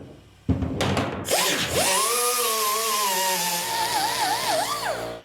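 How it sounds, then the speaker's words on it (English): A power grinder cleans the aluminum hull of a jon boat, starting with a short burst and then running as a loud, steady whine whose pitch wavers as the disc loads against the metal, close up with no talking. "I'm going to go ahead and take my grinder and clean that up."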